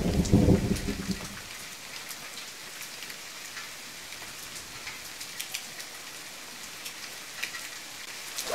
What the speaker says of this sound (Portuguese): essa chuva não vai parar, não?